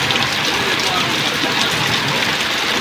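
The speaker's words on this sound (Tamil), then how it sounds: "மழை பார்த்தீங்கன்னா பேஞ்சினே இருக்குது" Sudden heavy rain pours down steadily, a dense, even hiss of drops hitting surfaces that stays loud and unbroken from start to finish.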